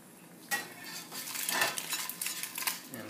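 A metal spatula scrapes and clinks against a cast iron skillet while flipping a fried egg in butter, with a few sharp scrapes and taps over a faint sizzle, close and fairly quiet.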